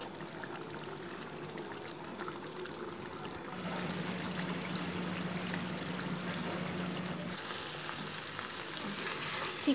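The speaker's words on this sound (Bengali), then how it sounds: "কিছুক্ষণ টাইম আমি এটাকে বয়েল হওয়ার জন্য ছেড়ে দেব, আর ঝোলটাও আমার জাল হয়ে ভালো শুকিয়ে যাবে।" Bengali chicken rezala gravy boiling and sizzling in a pan, a steady close crackle and bubble with a low hum running through the middle stretch, continuous and without talk.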